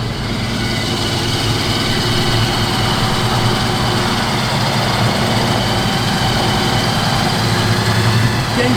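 A 1966 Ford Mustang's engine idles with a steady, low rumbling drone that holds even and continuous, close and fairly loud, with no voices over it.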